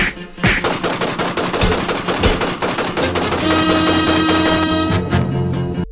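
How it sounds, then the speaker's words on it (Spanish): Rapid bursts of gunfire from the TV series Money Heist: Korea crack repeatedly over a dense, loud mix with music-like tones, the shots coming in quick irregular volleys. "Disparos por aquí, disparos por allá."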